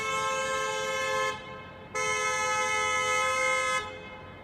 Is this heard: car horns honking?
yes